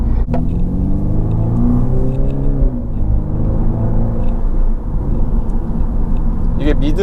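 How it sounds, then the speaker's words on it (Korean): Mini JCW Clubman engine and exhaust, a loud, deep rumble rising and falling in pitch as the throttle opens and eases, heard from inside the car with a sharp knock near the start. "제가 아까 배기음 좀 좋다 그랬잖아요"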